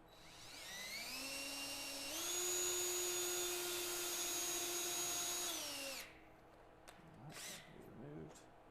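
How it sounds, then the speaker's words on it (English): Power drill driving screws into the roof of a birdhouse, a steady whine that rises in pitch, holds, then winds down after several seconds, followed by faint handling clatter. "I'm going to throw some screws in the roof also."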